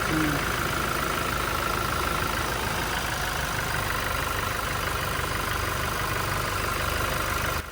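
A Toyota Innova 2.8 diesel engine idles quietly and evenly, a steady close running hum that holds without revving throughout.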